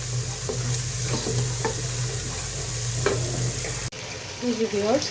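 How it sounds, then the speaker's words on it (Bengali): Ingredients for egg and potato dal sautéing in a pan, a steady close sizzle with scraping stir strokes, then a brief cut to a different frying patch near the end. "সামান্য একটু কষিয়ে নিতে হবে অল্প সময়ের জন্য একবারে"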